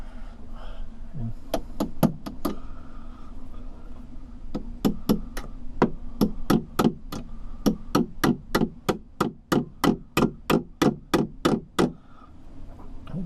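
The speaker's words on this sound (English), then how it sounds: "we're going to take the same pin and kind of knock that in there" Sharp knocks of a pin being tapped into a plastic boat portlight during restoration: a short burst of three or four, a pause, then a long steady run of about twenty evenly spaced, loud close hits over a low hum.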